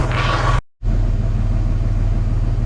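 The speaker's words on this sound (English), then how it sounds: "so now she idles around 750, 800" A Jaguar S-Type engine idles at about 750 to 800 rpm after an ignition timing adjustment, giving a steady, close, low rumbling hum that cuts out for a moment before carrying on evenly.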